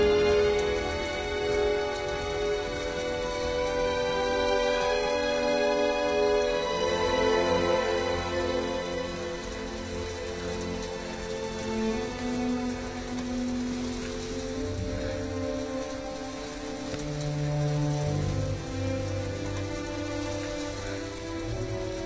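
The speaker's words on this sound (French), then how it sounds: "les images de Charlotte Gainsbourg portant son fils sous un déluge de grêle" A hailstorm downpour in a film scene, with a steady hiss of hail and rain running throughout under sustained orchestral music from Wagner's Tristan und Isolde prelude.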